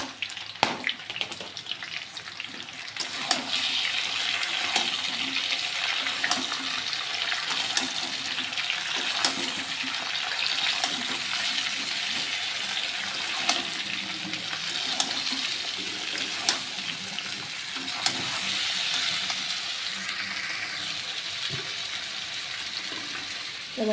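Chopped onion and tomato go into a pan of frying potatoes, setting off a steady, loud sizzle that continues with scattered crackles and no talking.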